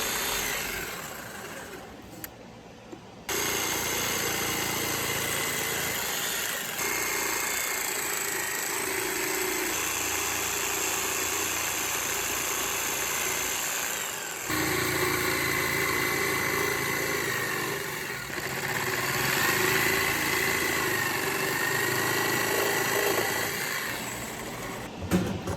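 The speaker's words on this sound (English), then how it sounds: "We can then take a jigsaw to cut on the inside of each of those lines" A power drill and a jigsaw cut notches in wood for a bar stool, making a continuous buzzing whine with brief pauses between passes.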